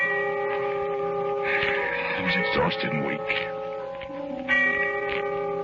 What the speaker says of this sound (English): the sound of the distant bell faded out